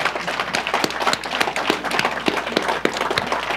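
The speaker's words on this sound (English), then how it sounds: "let's give them a round of applause." Dense, steady applause from a conference audience at a security conference's welcome address, a continuous crackle of many hands clapping at fairly even loudness throughout.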